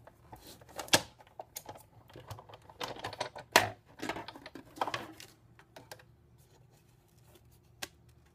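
Paper card stock with stacked die plates being cranked through a manual die-cutting machine, a run of close, uneven clicks and crunching knocks that peak midway and then thin out to scattered taps.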